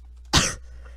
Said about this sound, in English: don't get mad at me for coughing